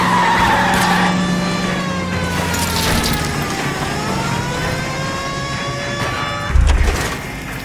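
Tires squeal in a long, wavering skid as a car is run off the road during a chase in L.A. Noire, loud and continuous over engine noise, ending in a short thud.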